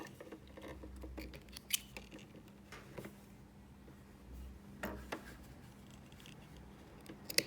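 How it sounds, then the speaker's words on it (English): Scissors snipping off sewing thread at a machine, a few faint sharp clicks scattered over a quiet room hum with no talking. "I'm just going to snip that off."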